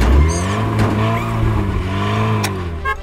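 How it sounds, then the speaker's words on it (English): A cartoon car's engine starts, revs up and zooms away in a loud, continuous whir with rising pitch, accompanied by light musical effects and no talking. "Turn on Tilly's engine, that's all Sly needs, to share Tilly's power and zoom off at speed."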